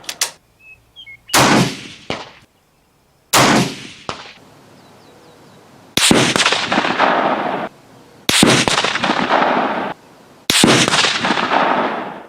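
Springfield 1903A4 rifle fired at an outdoor range: six loud, sharp shots spaced a few seconds apart, each cracking hard and ringing out in a long echoing tail before the next.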